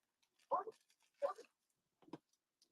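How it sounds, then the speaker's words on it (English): A dog gives three short barks, two close together and a third after a pause, fairly close and moderately loud, in an indoor setting during a live-streamed online selling session. "Gosh, that dog."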